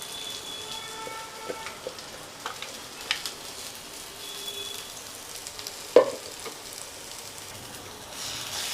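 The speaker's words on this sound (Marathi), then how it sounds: "आता हे वाटण आपल्याला या तेलामध्ये चांगलं परतायचं आहे." Ground green pea paste sautéing in hot oil for matar kachori, a faint steady sizzle with scattered light stirring taps and one sharper clink, close and unaccompanied by talk.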